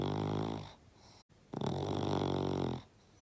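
A voice imitates a dog snoring, with two drawn-out rasping snore breaths separated by a short pause, close and fairly quiet.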